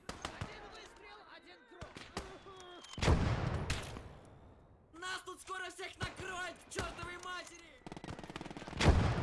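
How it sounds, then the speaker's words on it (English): Mortar and rifle fire in the Battle of Stalingrad video game, with sharp scattered shots and louder blasts spread across the clip, mixed with shouted voices. "Our mortar is already firing."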